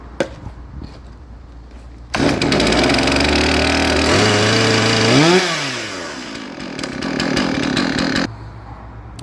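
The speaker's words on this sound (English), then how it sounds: "so we just let the saw run for a couple minutes" A Stihl chainsaw engine roars after starting, running loud and close with a brief rise and fall in revs partway through before settling into a rough steady run, then cutting off.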